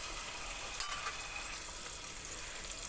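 Tomatoes cooking in a pan with fried onion and ginger-garlic paste for black masala chicken, a quiet, even sizzle with a couple of soft knocks from stirring, faint and steady with no voices.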